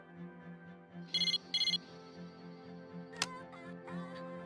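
Two short, bright chiming bursts of a cell phone message ringtone in Persona 3 Portable sound over a soft game music bed, followed later by a sharp click.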